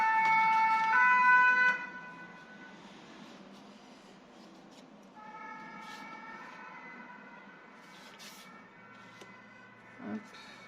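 A fire engine siren wails outside open windows in Clermont-Ferrand, loud and steady at first, then fading, briefly swelling again further off as traffic hums below.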